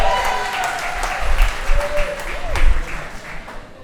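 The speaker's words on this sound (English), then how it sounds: "So let's give them a round of applause." Wedding guests applaud at an evening reception, a steady wash of clapping lasting several seconds with a melodic tone and faint voices mixed underneath.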